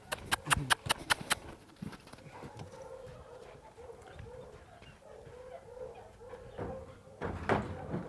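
Hooves of an untouched mustang clatter on a horse trailer floor, with a quick run of sharp close knocks at the start, scattered shuffling steps through the middle and a louder thump near the end, while birds chirp in the background.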